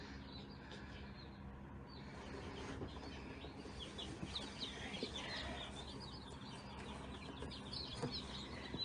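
Newborn chicks in a tub warmed to 90 degrees, with food and water set inside, give soft, scattered peeps and clucks over a busy, low background hum, some wing flutters mixed in.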